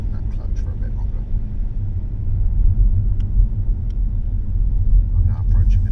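A manual car's engine rumbles steadily as the driver adds a little gas and holds the clutch while pulling out at a junction, a loud, low, continuous drone that swells slightly midway.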